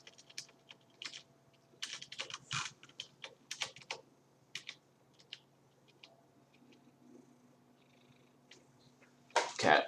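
A cat sits by a computer keyboard while keys are tapped in irregular bursts, soft close clicks over a faint low purr, ending in a louder rustle, with no talking.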